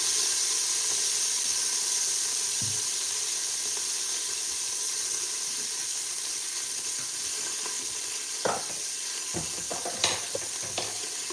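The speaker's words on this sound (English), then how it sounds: "That's the locust beans frying" Locust beans sizzle and fry quietly in a pan with a steady hiss, broken by a few sharp clinks and stirring scrapes near the end.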